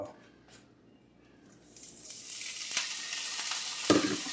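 Brussels sprouts hit a hot skillet after a spray of oil, a soft quiet start giving way to a rising, sustained sizzle over the last couple of seconds, close by, with a sharp clatter near the end.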